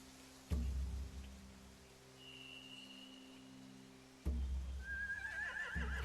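In The Walking Dead: The Final Season video game, a horse whinnies once mid-clip, then a second, rising neigh follows a sudden low rumble, over a steady quiet drone with a couple of thumps.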